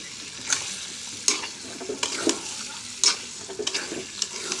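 Chicken feet, heads and liver are stir-fried with spices. A spatula scrapes and knocks against the pan in sharp periodic strokes over a constant low sizzle, with no talking.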